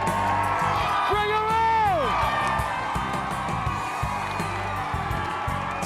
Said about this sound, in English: To be out there with a crowd cheering, and all of the community were there.